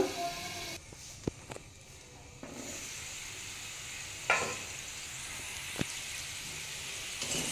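Potatoes fry with a soft, steady sizzle in a covered pan over a low gas flame, broken by a few sharp clicks and clatters, the lid and utensils knocking now and then.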